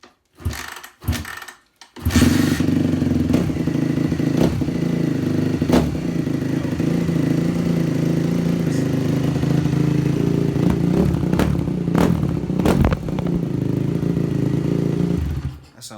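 A 250 two-stroke dirt bike engine catches on its first crank and runs loud and close, holding a steady, raspy idle with several sharp revs, after a few brief kick or crank bursts at the start.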